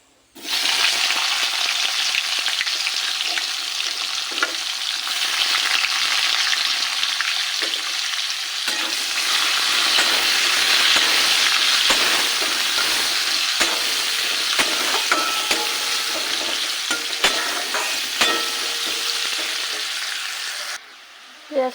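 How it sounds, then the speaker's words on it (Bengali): Chopped onion frying in oil with cumin and bay leaf, a steady loud sizzle with faint stirring scrapes that runs unbroken for about twenty seconds, with no voices over it. "এবার দিয়ে দেব পেঁয়াজ কুচি"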